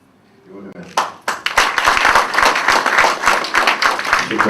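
Audience applause at an international business forum for Mr. Collet: a few scattered claps open the clip, then they swell into steady, dense clapping from a large crowd that holds to the end.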